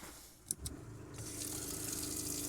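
Water runs from a tap inside a camper van after a leak repair. Two brief clicks come first, then the water starts and gushes steadily from close by.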